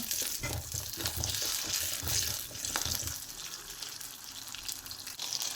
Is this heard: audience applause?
no